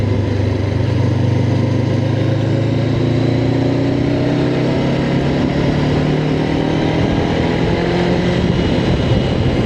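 Honda NX500 motorcycle revving out in third gear on an open road, a loud, steady engine drone with rising pitch as it pulls, continuous for about ten seconds.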